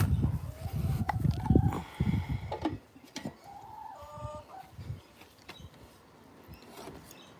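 A hen clucks softly a few times nearby amid faint rustling and scattered background noise, with louder handling sounds at the start.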